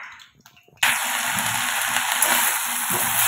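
Green chillies frying in hot oil, a loud sudden sizzle that bursts in after a quiet moment and keeps crackling steadily close up.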